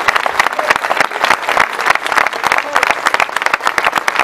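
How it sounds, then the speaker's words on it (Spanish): Crowd at a political rally in La Bañeza applauding a deputy, loud close rhythmic clapping that stays steady over a few seconds. "Un aplauso para él."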